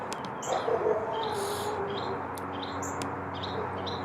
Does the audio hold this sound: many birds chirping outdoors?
yes